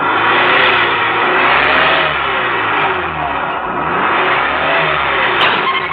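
A vehicle engine roars and revs steadily after being pushed, loud and close, holding a strong sustained drone throughout with no voices.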